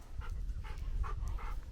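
A dog whines and pants in quick, soft bursts, four or five short breathy pulses close by at low volume.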